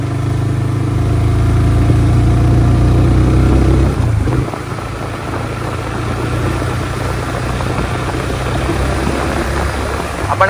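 A Bajaj Pulsar NS motorcycle being ridden, its steady engine drone and wind rumble continuous and loud throughout, with a brief dip partway through as the rider changes pace.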